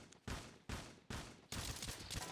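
Gunfire in the video game Garry's Mod: four loud bursts of rapid shots, each starting abruptly, the last one a sustained volley lasting nearly a second, with no talking.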